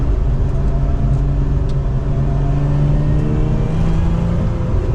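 A 2024 Lotus Emira mid-engine sports car cruises along, heard from inside as a loud, steady low engine drone and road rumble with a faint rising tone, and no talking.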